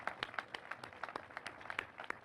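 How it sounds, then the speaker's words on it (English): Sparse applause from a small gathering at a community bicentennial dedication ceremony, scattered individual claps fairly close and moderately quiet, with no talking over them. "Let's give a round of applause, please"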